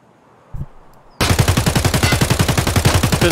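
Automatic gunfire in Escape from Tarkov is fired while aiming down sights: after a brief click, a loud, rapid, evenly spaced burst of about twenty shots continues to the end, close and unmasked.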